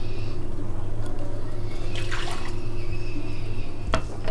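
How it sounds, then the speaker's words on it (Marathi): Water is poured into a Malvani fish curry in a pan, giving a steady splashing pour under a constant low hum, with a short clatter near the end. "आता आपल्याला जेवढी पातळ हवी आहे ना त्याप्रमाणे आपण पाणी घालायचं याच्यामध्ये"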